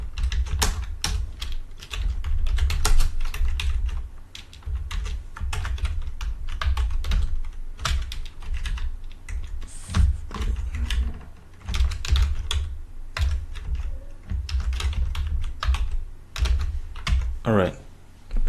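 Fast, steady typing of code on a computer keyboard, dense key clatter running almost unbroken at close range, with brief pauses and a short spoken interjection near the end.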